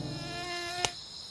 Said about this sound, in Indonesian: Ia pun kesal karena nyamuk di hutan itu mengganggunya.